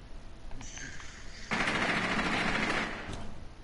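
Gunfire in the video game Rainbow Six Siege, a close, loud sustained automatic burst lasting about a second and a half after quieter game noise, with a final shot at the end.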